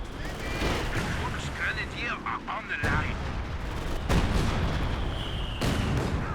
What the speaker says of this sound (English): Got some concentration barrage coming in. With the airburst shells now.